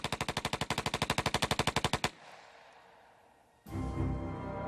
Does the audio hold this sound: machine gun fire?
yes